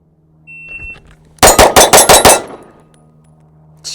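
A Canik METE MC9 Prime 9mm pistol fires a fast string of about six loud, sharp shots close by. A faint electronic beep comes just before the string, and the room echo trails off afterward.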